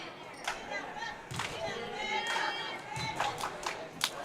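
Home crowd at a high school boys basketball game in the Cunningham gym, scattered shouts and yells from spectators with sneaker squeaks and thumps on court, moderately distant, mixed with commentary.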